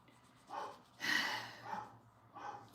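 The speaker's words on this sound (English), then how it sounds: "You can hear my dog going crazy." A big standard poodle and sheepdog mix barks and yelps a few times, faint and somewhat distant, over a low steady hum.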